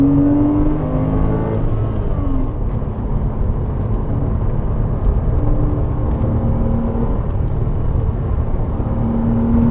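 Porsche 987 Cayman and 718 Cayman GT4 driven flat out on the Goodwood circuit, a loud continuous engine drone heard from inside the car with shifting pitch as it accelerates, no talk.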